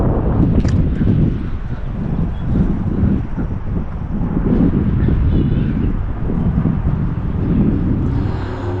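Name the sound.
wind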